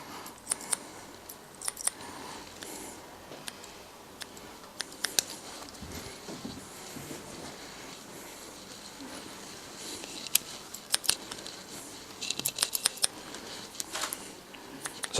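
Scissors-over-comb haircut by a barber: quiet, rapid metallic snips come in irregular bursts, thickening into quick clustered cuts toward the end over a soft room background.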